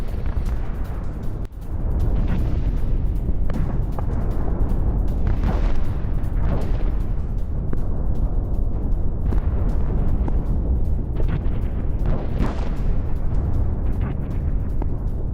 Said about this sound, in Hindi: ड्रोन हमले से ऑयल प्लांट में भीषण धमाका।